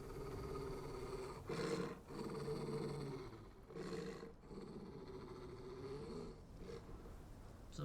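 A creature in Final Fantasy 16 growls in low, rumbling roars that swell and fade in several waves over a constant background drone.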